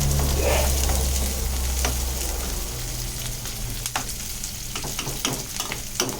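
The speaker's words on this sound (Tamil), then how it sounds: "இப்போ இந்த வெங்காயம் நல்லா வதங்கணும்" Small onions sautéing in a pan for a vendakai kara kuzhambu give off a steady, close sizzle, loud at first and then settling. Scattered stirring clicks sound from the utensil against the pan.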